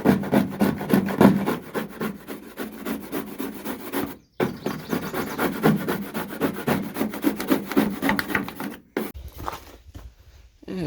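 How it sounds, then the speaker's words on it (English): A wire wheel scrubs coating off a fishing boat under rebuild, a loud, steady rasping grind that runs almost continuously, breaking off briefly twice and tapering near the end. "Yeah, a bit of a cleanup with the wire wheel."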